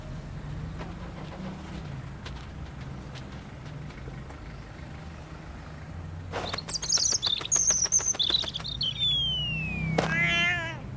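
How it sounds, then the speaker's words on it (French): A small robin chirps in bright, rapid trills and whistled notes that burst out loud and close after a quieter stretch of low background rumble, ending with a rising call. "il y a un petit oiseau qui est tombé du nid"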